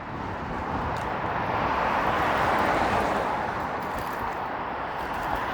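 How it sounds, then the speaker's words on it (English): Strong wind roars steadily while cycling along Yonge Street in Toronto, a loud, continuous rushing buffet with no breaks and no talk. "Man, this wind is brutal."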